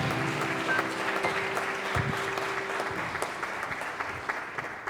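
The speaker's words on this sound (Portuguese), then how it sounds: "Aplauda a Jesus" Congregation in a church service applauding, a steady dense wash of clapping hands that holds throughout at moderate loudness, with no talk over it.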